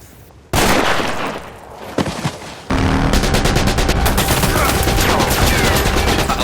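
Loud, rapid bursts of automatic gunfire in a film ring out in sustained volleys near an aircraft about to take off, with a short pause before a long continuous barrage.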